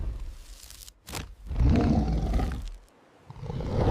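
A huge monster roar in the style of a King Kong film effect, deep and rumbling, swelling in two long blasts with a short quiet gap between them, loud and alone.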